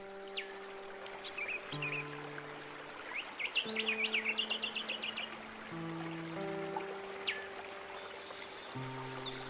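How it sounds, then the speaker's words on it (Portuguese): Birds chirp and trill in a sunny forest, quick bright calls repeating near and far over soft running water, while sustained music tones play steadily underneath. "o som dos pássaros preenchia o ambiente"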